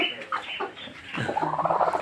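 Agitated hen clucking nearby among a small flock, with short harsh calls followed by a longer, rising string of rapid scolding clucks.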